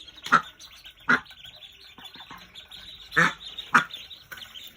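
A mother duck and her ducklings give four loud, separate quacks spaced unevenly apart, with quiet background between them and no speech.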